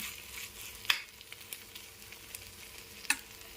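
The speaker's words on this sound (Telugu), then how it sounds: "కొంచెం కొత్తిమీర వేసి బాగా కలిపేసుకుందాం" Gongura prawn curry with coriander stirred in a pan, heard as a soft continuous sizzle with faint scraping strokes and two brighter clinks of the spoon against the pan.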